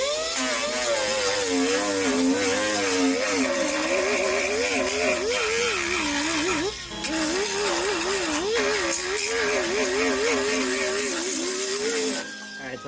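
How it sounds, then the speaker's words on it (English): A 36 grit abrasive disc scuffs sheet metal on a car panel, a loud close grinding whine that wavers up and down in pitch as the tool slows and speeds, with one brief pause and a sharp cutoff near the end. "So I need to still scuff this area. Let's do that. In this case, I'm using 36 grit."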